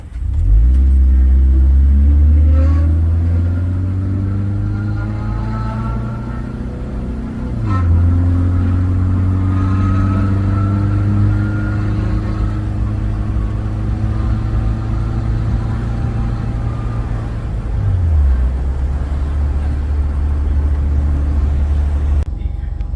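A 1976 VW Kombi van converted to a Subaru EJ20 engine with an automatic gearbox, heard driving: a steady mid-pitched engine drone that rises through automatic gear changes, close and loud from inside, with a voice speaking over it.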